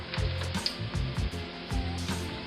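Broccoli sizzles and fries in a hot frying pan, a steady crackling hiss broken by bursts of scraping and stirring, close and fairly loud with no talking.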